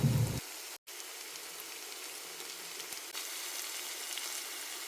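Shallots and curry leaves fry in hot oil in a pan, a steady close sizzle with a short sharp crackle at the start and a brief break, no talking.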